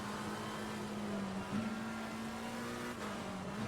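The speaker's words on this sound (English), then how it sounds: "Everybody accelerates away down the winding straight up to Schlag" Race cars in Assetto Corsa Competizione accelerate away in heavy spray on a wet track, a sustained engine drone rising in pitch with a gear change partway through, close and continuous, with no talking.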